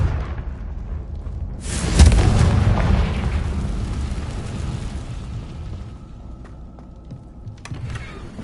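A Confringo fire spell explodes in Hogwarts Legacy, a sudden loud blast that rolls into a long rumbling, crackling decay over several seconds, with game ambience underneath.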